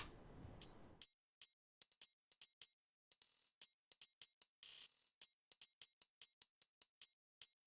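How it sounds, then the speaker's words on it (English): Two different hi-hats play alone in a sparse electronic pattern, with crisp, bright, close ticks in an uneven rhythm and a couple of longer open hits, after a brief low rumble at the start. "hi-hats, 2 different hi-hats to provide variation"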